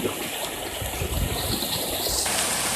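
A strong floodwater current rushes loudly and continuously after heavy rain in Barangay Ilog, Infanta, Quezon, a dense, close roar of churning water with no voices.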